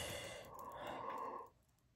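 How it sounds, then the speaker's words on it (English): A person yawns with a long, breathy exhale that fades out after about a second and a half, faint and close with no talking. "Oh, he's yawning, y'all."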